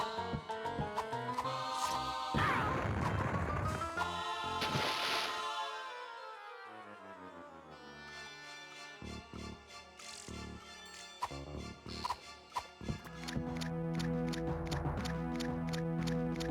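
Drum sounds mark a zone unloading and the next one loading in the video game Herc's Adventures, heard as soft, repeated ticking percussive hits layered with game music tones that swell, fade and return, fairly faint throughout.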